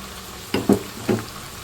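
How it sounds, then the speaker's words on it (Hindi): Chicken pulao masala with chopped tomatoes and green chillies frying in a pan, a close, brief sizzle with three quick bursts of stirring over a steady low crackle. "अब हम इसे अच्छी तरह भूनेंगे"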